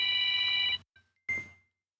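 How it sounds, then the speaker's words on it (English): A telephone rings at a studio hotline, a loud electronic ring burst that cuts off, followed by a short quieter chirp and a fading final ring. "we got a phone call. hotline coming in directly to Blind Alchemist Studios."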